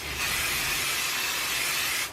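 Spray adhesive hissing onto embroidery stabilizer in one steady, close burst of about two seconds, with no talking.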